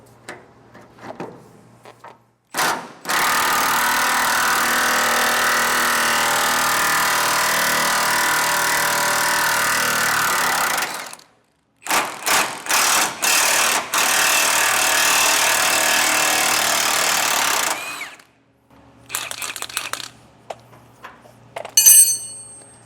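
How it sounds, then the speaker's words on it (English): A pneumatic impact wrench with 13/16 and 7/8 sockets breaks loose a corroded leaf spring eye bolt on a utility trailer, firing in two long sustained bursts with short rattling bursts between and after, loud and close with no talking. "So I've got my impact on here, and on the bolt head side I'm using 13/16."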